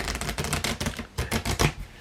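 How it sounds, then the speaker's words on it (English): A deck of playing cards being riffle shuffled during a magic trick, a burst of close, crisp flutters and snaps with a short pause before a second quick riffle, no talking. "you're going to riffle shuffle these in"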